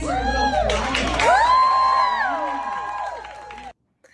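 Crowd at a women's bodybuilding show cheering and whooping loudly, with a sustained wash of shouts and scattered applause that fades out near the end.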